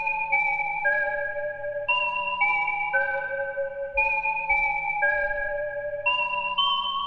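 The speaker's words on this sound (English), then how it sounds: "Now I have the initial 16 preset from Hayes' Intrusion Bank" A bright, bell-like synthesizer preset in FL Studio plays a slow melodic sequence of sustained notes. Each note rings with rich harmonics, and the instrument is heard alone.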